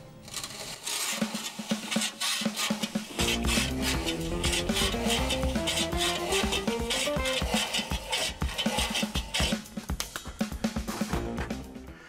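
Foundry green sand is dampened and remulled by hand for bronze casting, giving a continuous gritty rubbing and scraping with rhythmic rasping strokes close by, under background music.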